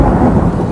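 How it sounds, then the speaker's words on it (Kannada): A deep, loud rumble of thunder rolls close by, with the patter of rain starting to fall underneath it, a short burst with no voices. "ಮಳೆ ಬೀಳಲಾರಂಭವಾಯಿತು."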